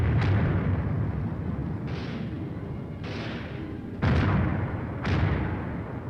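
A 4.2-inch mortar platoon lays down a heavy blanket of fire: five loud, sharp blasts roughly a second apart, each followed by a rumbling decay, over a continuous low battlefield roar.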